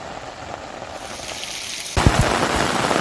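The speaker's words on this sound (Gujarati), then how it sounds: "2 દિવસ બાદ ફરી ધોધમાર વરસાદની શરૂઆત થઈ" Heavy monsoon rain in Sabarkantha, Gujarat, a dense continuous roar of falling water that grows louder and heavier partway through, with sharper splashing impacts near the end and no talking.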